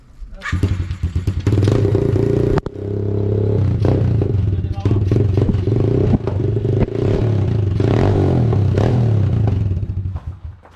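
A small motorcycle is kick-started with a clattering thump and then idles and revs loudly and unevenly close by, the engine catching briefly before running steadily for about ten seconds.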